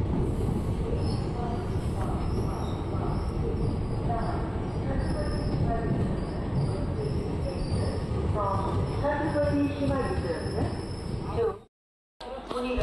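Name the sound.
train arriving at Bagalkot railway station platform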